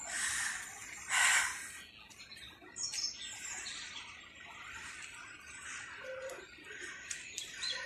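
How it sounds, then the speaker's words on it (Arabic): Small birds chirp and tweet in short, bright bursts scattered across a quiet outdoor setting, some calls fairly close and others faint, with no one speaking. "التغريد ديال العصافير"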